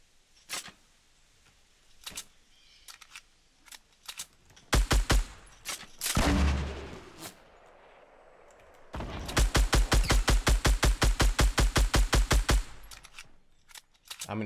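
Sniper rifle and other gunfire in a video game: sharp isolated shots, then short bursts and a long run of rapid, evenly spaced reports, loud and close.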